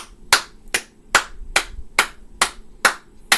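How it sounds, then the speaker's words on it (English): A single person claps slowly and evenly, eight sharp, close claps spaced about half a second apart with near silence between them. "let's give a round of applause for Scott Howard."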